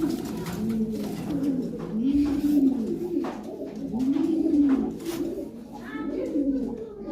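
White Bombay pigeons coo in repeated rolling phrases nearby, with soft rustling and small background noises in between.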